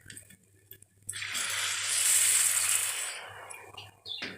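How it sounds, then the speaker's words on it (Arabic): Water is poured into a cooking pot of rice, a rushing gush that swells for about two seconds and then tapers off, bracketed by quieter handling clicks. "نحط بقى الميه"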